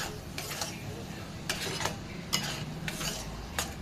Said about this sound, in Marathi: बघा अशा प्रकारे आपण छान असं सर्व मिक्स करून घ्यायचं